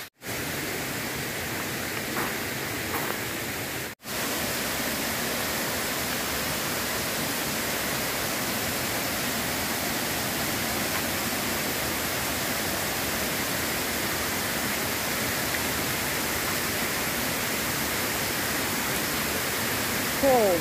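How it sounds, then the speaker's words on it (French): Jungle waterfalls near the Maya city of Palenque give a steady, dense rush of falling water that continues without a break, with faint talk barely rising above it. "Regarde avec les cascades."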